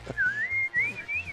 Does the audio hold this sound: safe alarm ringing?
no